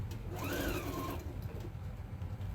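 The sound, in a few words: sewing machine stitching fabric for a sewing mat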